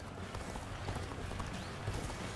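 A horse gallops steadily in Dynasty Warriors: Origins, its rapid rhythmic hoofbeats sounding close and continuous over a busy game background.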